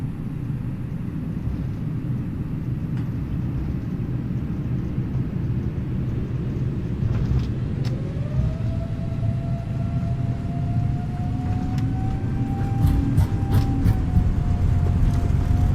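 Airbus A330neo jet engines spool up for takeoff in a flight simulator game, a steady low rumble with a rising whine that builds and grows louder toward the end.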